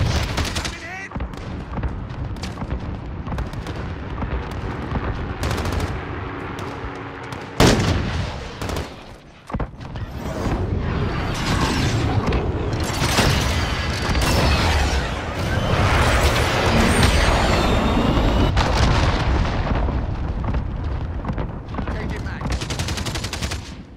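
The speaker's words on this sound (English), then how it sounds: "Mortars incoming!" Incoming enemy mortar fire in Call of Duty: Modern Warfare lands amid a dense, continuous battle of rapid gunfire bursts and booming impacts, loud and close throughout, with voices calling out over the noise.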